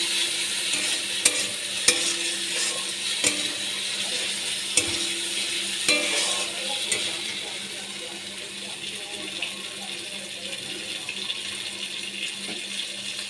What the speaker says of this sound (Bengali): জিরে গুঁড়ো দিয়ে আমি ভালো করে কষিয়ে নিচ্ছি।